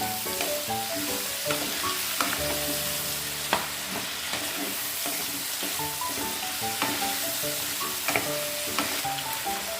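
Prawns sizzle and hiss steadily in a pan as they fry for a spinach and prawn curry, with bright melodic tones and occasional sharp clicks throughout.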